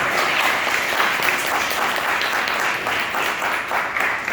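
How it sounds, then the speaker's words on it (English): A school audience applauds a special guest, a state representative, with steady, dense clapping from many hands that stays loud and even throughout. "Let's give her a round of applause."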